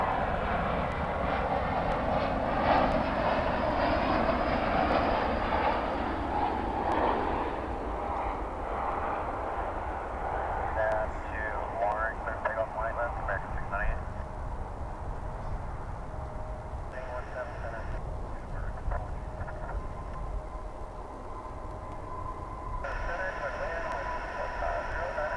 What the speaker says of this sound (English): pick up a flight coming in from Phoenix, American Flight 431